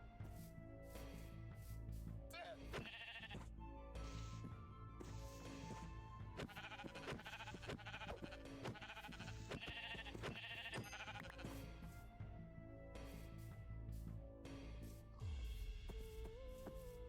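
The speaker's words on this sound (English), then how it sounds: "Kinda seeming like that might be one of the last sheep in this area." Sheep in Minecraft bleat repeatedly over several seconds, each call a wavering nasal tone, mixed with background game music and ambient sounds at moderate level.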